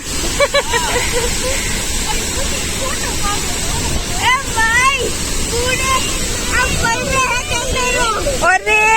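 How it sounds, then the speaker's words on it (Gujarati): Heavy rain at Harvalem waterfall in Goa produces a steady, loud roar of falling water with wind buffeting the microphone, while people talk over it throughout. "તો બહુ બધું પાણી પડે છે અને આમાં કઈ દેખાતું જ નથી"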